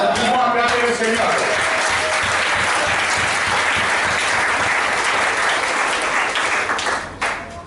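A church congregation breaking into loud, sustained applause, dense clapping filling the room with a few voices mixed in before it fades at the end.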